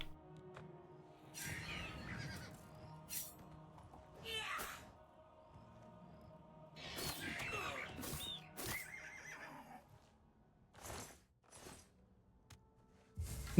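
A horse neighs and whinnies several times in bursts in the video game Clair Obscur: Expedition 33, mixed with hoof clatter and other game effects, loud then quiet gaps between.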